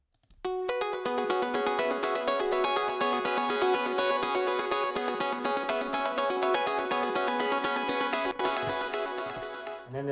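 A main pluck synth with Decapitator saturation plays a steady, dense run of bright plucked notes for about ten seconds, loud and continuous, with no voices.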